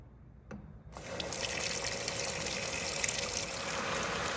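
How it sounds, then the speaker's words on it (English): Water runs from a tap into a rock tumbler barrel loaded with West Texas agates and silicon carbide grit. After a faint click it starts abruptly and fills in a steady, close, rising rush. "Let me get some water in here"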